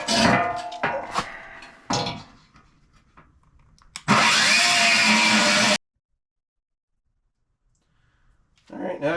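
An abrasive cut-off wheel slices through a metal skid plate for a 2022 Ford Bronco, a loud, steady grinding whine of about two seconds, preceded by scattered clanks and handling noises and followed by silence.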